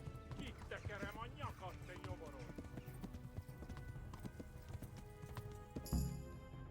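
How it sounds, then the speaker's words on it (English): Rhythmic hoofbeats of a galloping horse in the video game Kingdom Come: Deliverance clatter steadily beneath ongoing talk, with a brief whinny-like burst near the end. "I gotta gallop because my horse is out of stamina."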